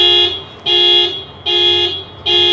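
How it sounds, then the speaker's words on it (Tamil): A parked car's alarm sounds after a key fob press to locate it, with loud repeating electronic beeps in an even on-off rhythm, about three bursts, close and alone. "இந்த மாதிரி நம்ம வந்து கார் எங்கே இருக்குதுன்னு கண்டுபிடிக்கிறதுக்காக வேண்டி இந்த அலாரம் சவுண்டு கொடுத்துருக்காங்க"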